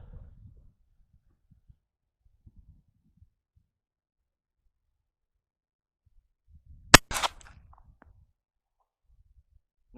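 A single sharp report from a Taurus .380 pistol fired at an indoor table setup, with a quick rattling trail after it. Quiet handling thumps come before and after.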